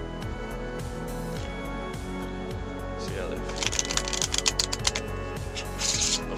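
Plastic playing cards from a premium deck are sprung from hand to hand in rapid, rhythmic flutters, a crisp clicking riffle that repeats several times close up, while someone talks over it.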